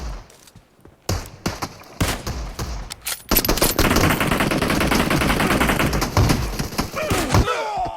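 Gunfire in the mobile battle-royale game PUBG Mobile: a few scattered single shots give way to dense, sustained automatic fire that stays loud and continuous, with sharp cracks near the end.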